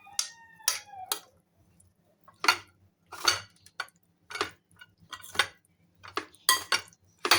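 Spoon clinking against a cup while stirring a rose and lemongrass tea blend, a series of sharp, close metallic taps in irregular bursts with quiet gaps between, no talking.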